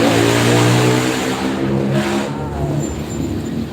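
A car with a loud exhaust revs close by during a Thai Kathin temple procession, its exhaust roaring and rumbling, then easing slightly and growling on.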